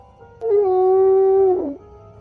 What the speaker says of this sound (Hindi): कुत्तों के रोने की आवाजें आने लगी